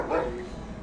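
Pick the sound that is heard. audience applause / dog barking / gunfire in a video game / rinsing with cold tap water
dog barking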